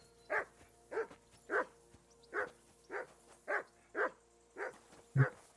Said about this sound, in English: Is he barking?